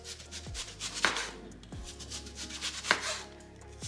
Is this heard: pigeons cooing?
no